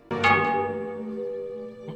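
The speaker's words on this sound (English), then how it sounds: "It's the town alarm." Town alarm bell in the animated show Avatar: The Last Airbender, a single loud clang that rings out with a long, slowly fading metallic hum, then a faint second strike at the end.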